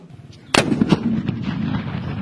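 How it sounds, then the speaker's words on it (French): A single loud cannon boom strikes suddenly, followed by a long rumbling echo that slowly fades. "Un coup de canon en guise de victoire"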